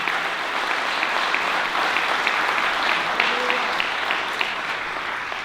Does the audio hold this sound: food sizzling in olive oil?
no